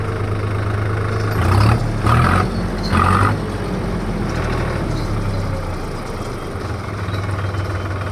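A 2023 New Holland 5510 Excel tractor with an FPT S8000 engine idling up close, a steady low rumbling drone with a few brief louder surges early on, no talking.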